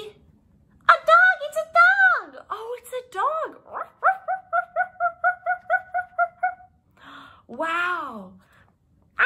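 A voice imitates a dog, whining and yipping, then giving a fast run of about a dozen evenly spaced short woofs, with a final whimpering howl. The sounds are close and clear against silence.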